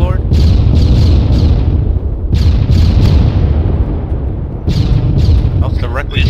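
Rocket fire and explosions in the military shooter ARMA 3: repeated loud booms and rumbling blasts, one after another, with the impacts fairly close and heavy low rumble between them.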